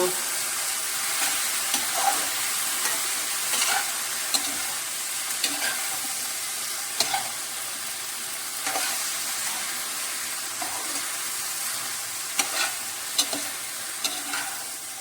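Okra and garlic stirred in a frying pan, a steady sizzle with repeated scraping strokes of the spoon at an irregular rhythm, close and fairly loud throughout.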